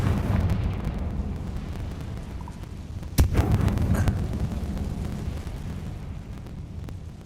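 A Confringo spell explosion from the Hogwarts Legacy video game lands as one sharp blast about midway, over a dense continuous rumbling game soundscape that trails off afterward.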